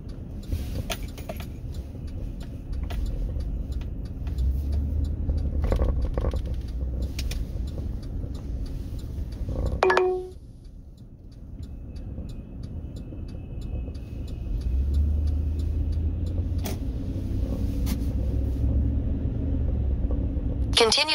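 Steady road rumble and engine drone from a Mustang cruising on a US highway in Montana, continuous and fairly loud inside the cabin, with a brief clunk midway and a navigation voice and talk over it.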